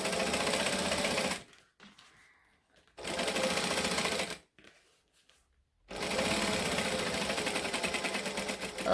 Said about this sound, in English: I'm going to top stitch 1/8 of an inch and I'm going to back stitch